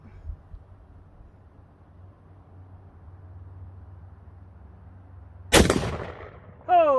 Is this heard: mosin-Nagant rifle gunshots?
yes